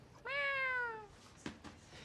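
A girl imitates a cat with one drawn-out, falling meow, loud and clear, followed by a couple of faint thuds and rustles in a quiet room.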